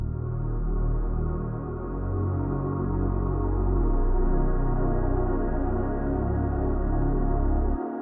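A kick drum transformed into a sustained pad by convolution reverb, forming a dense, continuous low-heavy wash that holds steadily for several seconds before cutting off abruptly.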